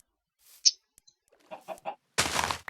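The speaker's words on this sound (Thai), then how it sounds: "ไก่ไก่ไก่ไก่" Chicken clucking in Minecraft, a short sharp cluck followed by a run of three or four quick clucks, clear and close against near silence, ending in a burst of broadband noise.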